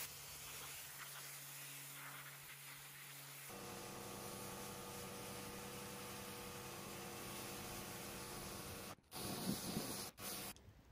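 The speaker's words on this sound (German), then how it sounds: "Oft reicht, wie in diesem Fall, die Sprühdüse mit großer Leistung voll und ganz aus, um Dreck und selbst Flechten zu entfernen." A Kärcher K 7 Premium Full Control Plus pressure washer sprays water through a high-power nozzle to strip dirt and lichen, giving a soft, steady hiss over a motor hum that grows fuller partway through and breaks off briefly near the end.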